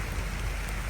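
Heavy rain pours down steadily, a dense, continuous hiss of drops striking surfaces close by, with no voices over it.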